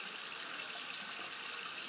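A tap runs into a sink, a steady hissing stream of water that is fairly quiet and continuous, with no voices.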